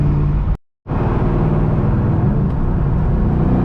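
A 2001 SVT Cobra with 4.10 gears accelerates hard through a gear pull, loud droning engine from inside the car, a brief drop-out at a shift, then a sustained rising roar.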